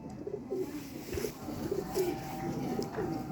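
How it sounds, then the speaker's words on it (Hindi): Soft cooing from a teddy pigeon repeats several times at a gentle rhythm, close by, over a low background hum with no clear speech. "टेडी कबूतर है"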